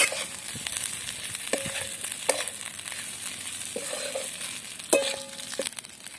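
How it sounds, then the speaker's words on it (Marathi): Potatoes and green chillies frying in oil, a low steady sizzle broken by several sharp spoon knocks and scrapes against the pan as they are stirred, close and without talk. "आता हे बटाटे पण आता थोडा वेळ असेच हलवून घेऊ"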